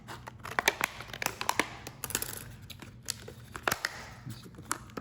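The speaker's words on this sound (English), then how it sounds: "We'll go ahead and start cutting this open and go from there." Scissors cut open the plastic packaging of a Sisu Max boxing mouthguard, giving close, crisp crinkling and tearing with a rapid series of sharp snips and rustles and no talking.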